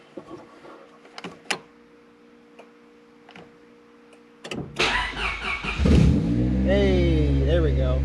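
A Honda Civic EK engine fitted with a push-button start: faint clicks and ticks, then the starter cranks and the engine fires, settling into a loud, steady idle close by.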